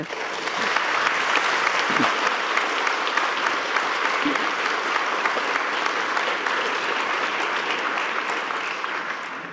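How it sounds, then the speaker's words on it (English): Sustained, dense applause fills a lecture hall at a memorial lecture on climate, a steady wash of many hands clapping at once, holding level for several seconds before tapering slightly. "after that round of applause"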